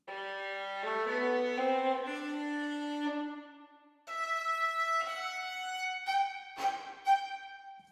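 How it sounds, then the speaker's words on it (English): Violins playing sustained bowed phrases with a wash of reverb, notes ringing and blending into a spacious hall-like tail. "Now let's put on the reverb with the violins."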